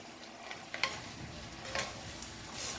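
Chinese long beans stir-fry in sesame oil in a pan with a soft, steady sizzle. A few light clicks and scrapes of stirring sound in a quiet setting.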